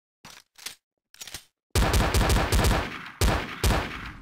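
Gunfire in the zombie survival game Garry's Mod: three short separate bursts, then a long loud stretch of rapid continuous shooting with a brief break before it resumes, close and with no talking.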